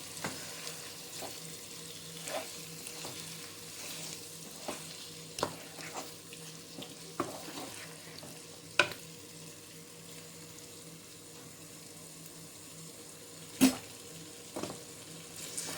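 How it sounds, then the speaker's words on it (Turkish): Breakfast food frying in a pan is stirred, a soft continuous sizzle under occasional sharp clicks and scrapes of a utensil against the pan, quiet and close with no talking. "İyice karıştırıyorum bunları ben"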